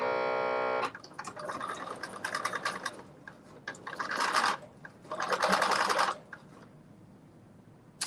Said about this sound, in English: we're putting our basting stitch in